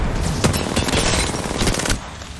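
Rapid bursts of automatic gunfire in the Apex Legends battle royale game, loud and dense with a few heavier cracks, sustained through nearly the whole span.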